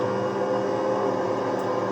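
A modded truck engine in the SnowRunner video game holds a sustained, strained whining drone at a constant pitch and level, close and alone.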